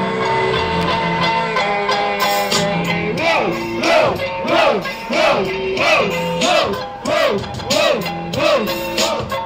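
A rap battle crowd at Batalha Da Leste in Itaquera roars and shouts in rhythmic waves, loud and sustained, with chant-like pulses rising and falling throughout.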